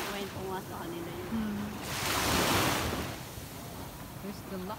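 Sea waves along a Batangas shoreline behind a house, a broad surf wash swelling and fading once near mid-clip, with people talking over it.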